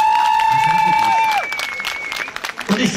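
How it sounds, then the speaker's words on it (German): Audience applause for a young assistant named Alina at a riding club's 50th anniversary event, a broad clapping wash lasting the whole moment while a high tone fades out early on. "da gibt es erstmal einen kleinen Applaus"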